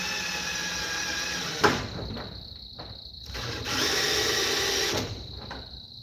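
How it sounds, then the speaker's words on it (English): A power drill-driver whirs while driving screws into a table being built, running in sustained bursts with a brief clunk and short pauses between runs, close and loud with no talk. "where's my screwdriver at?"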